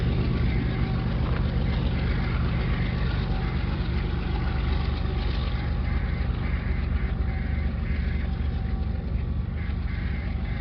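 A Union Pacific manifest freight train of 227 rail cars rolls past in a loud, unbroken rumble of engines and wheels that holds steady for the whole stretch.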